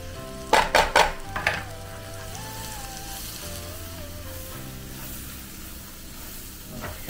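Spices for butter chicken fry in a pan: a few sharp metallic clinks of a utensil against the pan at the start, then a steady soft sizzle with a sustained tonal hum underneath, close and with no talking.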